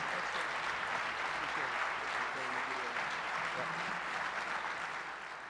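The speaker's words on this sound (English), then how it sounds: "Big round of applause for Deo Mwano." An audience at a leadership keynote breaks into steady, dense applause that runs throughout and eases slightly toward the end, with faint talk underneath.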